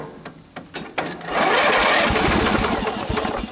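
An Agway garden tractor engine, left sitting at the dump, cranks with a few sharp uneven turns before catching and running at a steady loud roar, up close.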